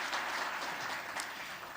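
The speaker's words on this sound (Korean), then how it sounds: "수고한 모든 분들을 뜨거운 박수로 격려하겠습니다." A church congregation at a Sunday worship service applauds together, a steady wash of hand claps sustained without a break from start to finish, with no voices heard above it.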